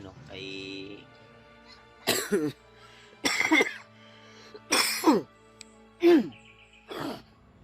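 Five separate harsh coughs come at intervals of about a second, close and fairly loud, with a few throat clearings among them.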